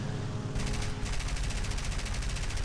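Aircraft gunners fire machine guns in the War Thunder video game, with a dense continuous rattle of rapid bursts that runs loud and unbroken throughout.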